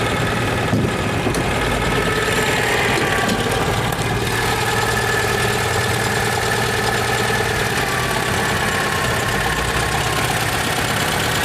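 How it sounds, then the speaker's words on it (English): A Citroën 2CV engine idles too high with its throttle sticking open, a loud, steady, close-up chugging drone with a constant mechanical rattle that runs on unchanged throughout. "Throttle just not shutting off quite properly there."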